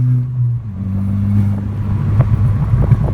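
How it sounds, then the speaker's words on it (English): Volkswagen MK6 GTI idling with its ECS Tuning exhaust cutout open, a loud, steady, deep drone that swells slightly partway through, with no talk over it. "when you press the exhaust cutout button, it opens it up and you can immediately hear it's a lot louder."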